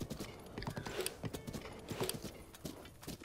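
Horse hooves clip-clopping at a steady gallop in The Legend of Zelda: Breath of the Wild, a rapid rhythmic patter of repeated hoofbeats heading toward a tower, fairly loud and continuous with no speech over it.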